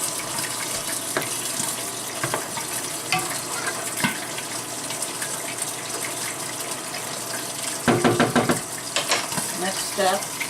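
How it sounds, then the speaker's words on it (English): Marinara sauce with pork chops being stirred in a pot, a continuous wet bubbling churn with scattered clinks and a busier stretch of stirring near the end. "Stir it."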